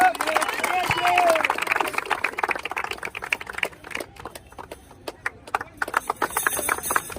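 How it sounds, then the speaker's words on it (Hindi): Spectators clap to honour a 1600 m race medal winner, producing a rapid scattered patter that thins out and then picks up again, with people talking over it. "इनके लिए ताली।"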